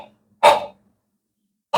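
A voice imitates a big German shepherd barking, two loud, sharp, breathy bursts separated by a second of silence.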